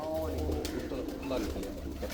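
A Salara teddy pigeon coos close up in short rolling phrases while someone talks over it.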